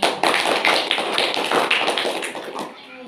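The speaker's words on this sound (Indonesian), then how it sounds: "Tepuk tangan dulu untuk kita" Elementary schoolchildren clapping their hands in a classroom, a brisk cluster of near, uneven claps that loosen and thin out toward the end.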